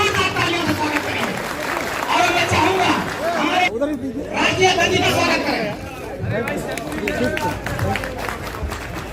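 Crowd at a political rally in Ayodhya applauding loudly, a dense sustained wash of clapping and cheering that carries through the whole stretch, with voices and chatter mixed in.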